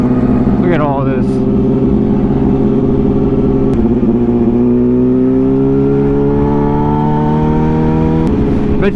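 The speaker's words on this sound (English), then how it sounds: "A little bit of traffic for you guys." Steady road traffic with car engines droning and revving close by, several vehicles passing on a California road, the engine tones rising and falling across the stretch.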